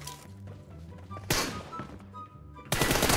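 Game gunfire from an M4 rifle striking an enemy in PUBG Mobile: a few sharp, loud bursts of shots with impact thuds, separated by quieter stretches, with no talking.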